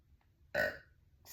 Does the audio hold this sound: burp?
yes